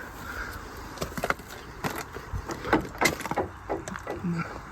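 An old wooden door in the ruins of a church at Vynarivka near Kyiv being tugged and rattled without opening, several irregular knocks and creaks with scuffing in between, close by against a faint outdoor background.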